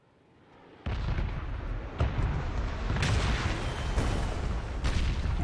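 Heavy artillery shelling in PUBG: after a quiet start, a loud rumbling barrage kicks in with booming impacts landing at intervals over a continuous low roar.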